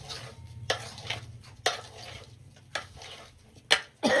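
Potato bhungla being stirred and tossed with spices in a pan, giving soft scraping and mixing sounds with a few sharper clinks of a spoon against the metal, close by and fairly quiet.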